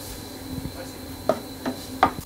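Soft knife strokes slice through a curd mass for mozzarella, several quiet taps and cuts at an uneven pace, close up and faint with no talk.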